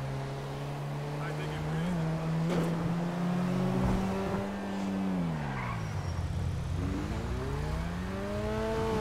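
A BMW 3.0 CSL Hommage R concept car in GTA 5 drives with a loud, steady engine drone that rises and falls as it shifts, with tire squeal and a voice speaking over it.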